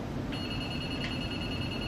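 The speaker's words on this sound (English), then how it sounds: "So I get a steady tone." Spectra Precision Model 500 laser level sensor on a survey rod gives a steady high electronic tone, starting after a brief pause and holding evenly with a short chirp partway through, over a low background hum.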